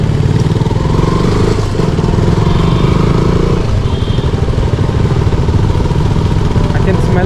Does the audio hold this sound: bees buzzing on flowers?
no